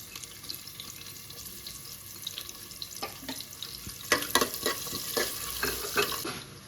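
Chopped onion drops into hot oil with whole spices in a pan, giving a steady sizzle with louder crackling bursts and stirring scrapes toward the end, close and without talk.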